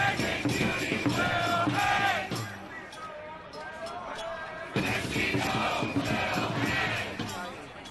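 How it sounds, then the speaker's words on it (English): A large crowd in a New York street chants in loud, rhythmic shouted bursts, a pause in the middle before the chant surges again, close and forceful. "Large crowds have gathered and are calling for the execution of Kristi"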